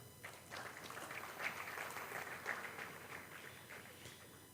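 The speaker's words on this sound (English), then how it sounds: "Give him a big clap, please." Audience applause at a yoga courses event, steady dense clapping throughout at moderate distance, fairly soft with a few louder swells, no talk over it.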